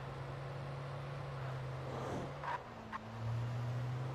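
A car drives steadily in the video game Alan Wake, a low constant engine drone with a couple of brief clanks and a slight rise in engine tone toward the end.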